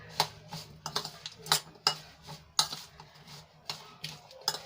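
A spoon clinks and scrapes against a bowl while mixing carrot and chili pickle, a series of close, sharp taps and knocks at an uneven pace.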